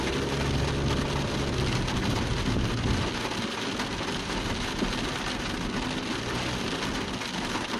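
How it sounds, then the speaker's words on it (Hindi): Steady rain falls around a car in Taobat, a dense broadband hiss that stays loud and even throughout, with low rumbling underneath and no talking. "बारिश थोड़ी स्लो हो गई है"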